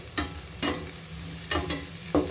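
Paneer frying directly in oil or ghee for a North-style pulao, a steady close sizzle punctuated by four or five sharp scraping stirs of the pan at irregular intervals.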